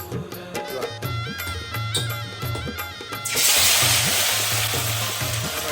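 Ginger, garlic and green chili paste hits a hot pan for an Agri-style prawn curry, bursting into a loud, steady sizzle partway through, following a few soft kitchen taps and clinks.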